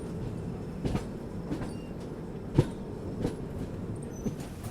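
A train rolls into Sahibabad station on a parallel track with steady rumble and rhythmic clicks and knocks of wheels over rail joints, one sharper clack standing out midway.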